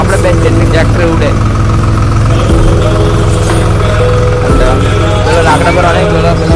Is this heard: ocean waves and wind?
no